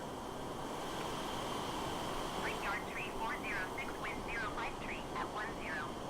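An airplane's engines roar at takeoff on runway 4 left in a flight simulator game, a steady, faint, continuous broadband rumble with brief chirping sounds partway through.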